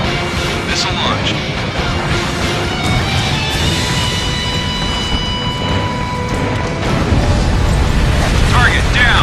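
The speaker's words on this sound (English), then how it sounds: "Missile launch." In the Ace Combat Infinity flight game, missiles launch and blasts rumble amid dense, continuous jet engine roar, with crashing booms layered loudly throughout.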